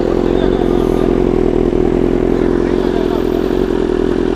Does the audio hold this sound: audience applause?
no